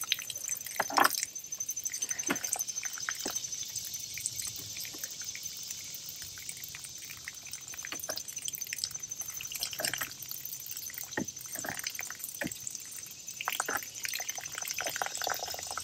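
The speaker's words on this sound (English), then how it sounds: "why are you leaking so much when you turned off?" Faint, irregular drips and small splashes of water patter over a quiet hiss from a faulty automatic drip irrigation timer leaking while switched off, with scattered sharper drops throughout.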